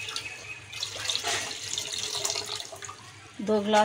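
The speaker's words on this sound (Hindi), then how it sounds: "पैन में मैं पानी डाल दूँगी 2 गिलास" Two glasses of water are poured into a pan of roasting semolina halwa, a steady close splash and gurgle lasting several seconds, with a brief clatter near the end.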